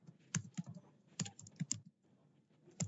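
Keys clatter on a computer keyboard while code is typed, quiet clusters of close clicks arriving in short uneven bursts with brief pauses between them.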